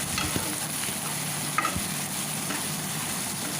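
Onions frying in oil sizzle steadily in a pan while a spoon stirs them, adding occasional scraping clacks for an Indian-style egg pasta.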